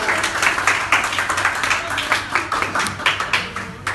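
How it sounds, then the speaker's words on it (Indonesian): A small audience claps for a man named Putra during a body-language book talk, a fairly dense, steady round of hand claps lasting several seconds at moderate loudness. "Tepuk tangan dong buat Mas Putra"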